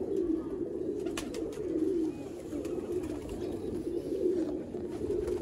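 Red-eyed A-class pigeons from the Sialkot border area coo in repeated soft, rolling calls close by against a steady background.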